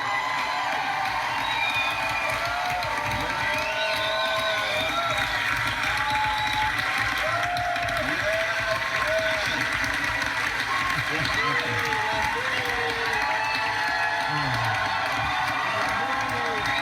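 Audience at a 60th birthday celebration breaking into sustained applause and cheering, a dense continuous wash of clapping and shouts with voices mixed in throughout.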